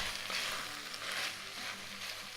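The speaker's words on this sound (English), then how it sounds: "Let's give this a good stir." Ground beef and minced fresh garlic sizzle steadily in a pan, with soft rhythmic scraping from stirring over the continuous frying hiss, close and moderately loud.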